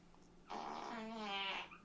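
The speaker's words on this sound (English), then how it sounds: "Computer, fart." A voice assistant plays a fart sound effect, a single buzzy, rippling blast lasting about a second and a half that rises slightly and then cuts off, loud and close.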